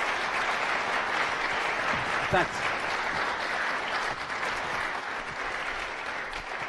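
Audience applause and cheering at a 1 Million Cups Kansas City pitch event in Kansas City, steady dense clapping from a large crowd throughout, with a brief spoken thanks partway through.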